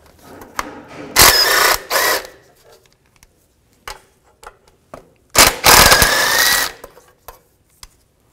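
A ratchet with a 17 millimeter socket removes bolts while a rear catalytic converter comes off a 2010-16 Buick LaCrosse: two loud, close, buzzing bursts, each about a second long, separated by scattered clicks and light tool knocks.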